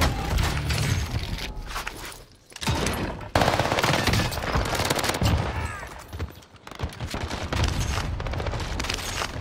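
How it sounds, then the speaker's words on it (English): Rapid automatic gunfire from a submachine gun in Call of Duty's Rebirth Island, loud dense bursts broken by brief pauses and booms, with layered shots and game effects and no talk over them. "I'm under fire"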